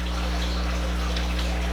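Cashew milk poured in a steady, close gurgling stream for a moment, with a low background hum.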